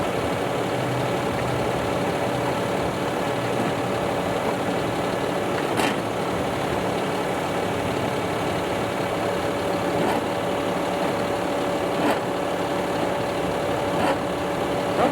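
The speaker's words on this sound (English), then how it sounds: "This tractor's not a very good match for this posthole digger, especially with the very large 2-foot auger." A tractor engine runs steadily while powering a hydraulic posthole digger fitted with a large 2-foot auger, a continuous loud drone with a few faint knocks, and no voices.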